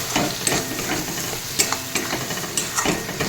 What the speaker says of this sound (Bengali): হলুদের গুঁড়োটা দিয়ে কিছুক্ষণ নাড়াচাড়া করব